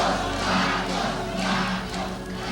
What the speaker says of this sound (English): Thousands of loyalists cheering the failing dictator